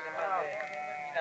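Goats bleat near a landslide on a road at Mongrassano San Marco, a wavering, nasal cry that rises and falls, with a second shorter call at the end, fairly close and alone.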